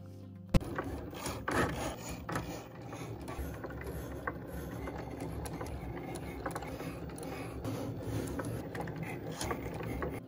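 A Cricut machine cuts out paper flower elements for a wreath, giving a steady mechanical whir with repeated ratcheting clicks and rubbing, close and continuous with no talk.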